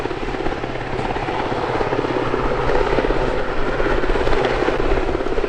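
A Westland Sea King helicopter's rotor and engine roar steadily and loudly throughout at an air festival role demo, a dense continuous drone with a rhythmic thudding beat from the 62-foot rotor blades.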